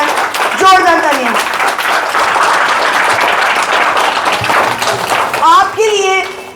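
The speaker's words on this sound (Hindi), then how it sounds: "एक बार सभी तालियां बजाएं श्री हेडमास्टर जी के लिए" Applause and clapping from a school audience for the headmaster at a government school event, a steady, dense wash of hands lasting throughout, with children's voices and shouts rising over it at the start and end.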